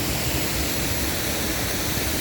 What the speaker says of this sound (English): There's 106 fountains, and there's a geyser in the middle that shoots up 85 feet.